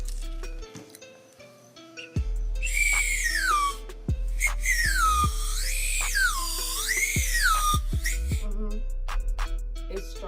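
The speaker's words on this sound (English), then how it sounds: "Check out these whistle pops" A whistle pop candy is blown in high, piercing whistle tones that slide up and down in wavering swoops, interrupted by short pauses and sharp breathy bursts, fairly loud and close.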